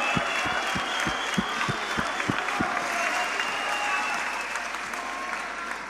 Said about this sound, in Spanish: Fuerte el aplauso para Asesino y Código,